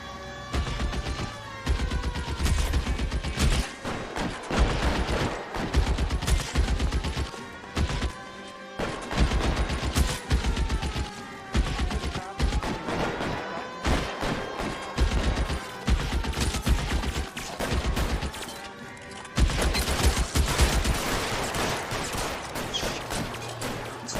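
Sustained video game gunfire fills a 1920s-era gangster shootout, with dense volleys of shots, crashes and thuds rolling continuously and loudly with only brief dips.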